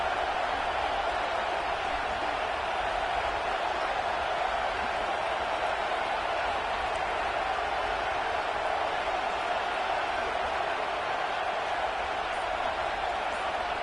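A stadium crowd in a college football video game, Ohio State against Clemson, roaring in a steady, dense wash of cheering for the whole stretch.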